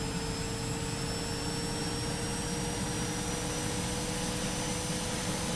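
A Hawk T1 jet engine in Microsoft Flight Simulator, a steady droning roar with a high whine, constant and moderately quiet throughout with no breaks.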